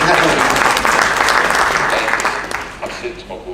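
A business breakfast audience claps in a dense, loud burst of applause that thins and fades away over a few seconds.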